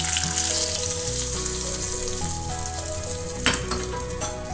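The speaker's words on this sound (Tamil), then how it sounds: "இதை வந்து இந்த பெருங்காயத்து மேலேயே ஊற்றிடலாம்." A tempering of cumin, a dried chili and curry leaves for dahi vada sizzles in hot oil, with a steady hiss, a sharp burst near the end and background music beneath.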